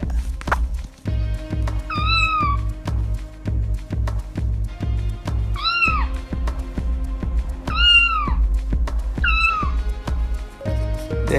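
A cat meows loudly four times in long, drawn-out cries over a steady rhythmic clatter of background music.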